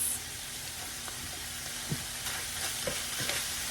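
Onions, garlic and carrots frying together with ground beef in a pan, a steady close sizzle with a few soft stirring knocks and scrapes, no voices.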